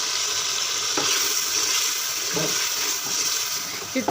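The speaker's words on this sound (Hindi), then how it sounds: "अब हम इसमें ऐड करेंगे थोड़ा सा पानी और इसको भूनेंगे।" Beef karahi sizzles steadily in a pan as a little water is added for frying, with a constant loud hiss and a few stirring clatters.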